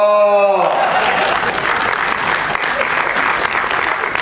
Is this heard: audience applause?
yes